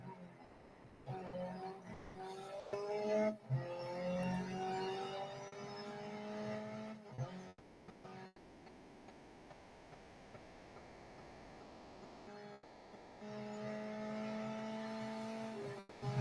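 A Ford Puma Rally1 car engine in the Real Racing 3 racing game drones with shifting pitch, fairly quiet, broken by brief drops and gear changes during a lap.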